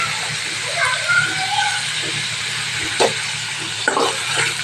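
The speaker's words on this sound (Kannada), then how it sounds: "ಸ್ವಲ್ಪ ಹಸಿ ವಾಸನೆ ಹೋಗುತ್ತಲ್ಲ ಫ್ರೈ ಆಗಲಿ ಸ್ನೇಹಿತರೆ" Turmeric and spices fry in a pan with a steady, close sizzling hiss, with a few brighter spits and stirring scrapes and a voice speaking faintly under it.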